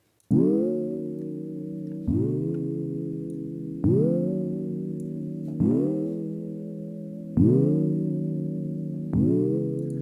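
Warm synth chords from Serum, saturated through RC20, repeat in a slow, steady pattern, each swelling in and sustaining before the next, with a slightly gritty, driven tone and no voices.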